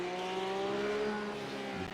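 A Porsche Cup race car brakes hard at Imola, its tires squealing in a short, loud, wavering whine over the engine's roar.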